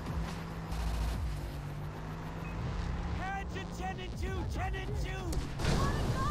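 Grenade launcher blasts from the video game Far Cry 3 thud and rumble repeatedly amid engine noise and game effects, fairly faint overall and mixed with scattered in-game sounds.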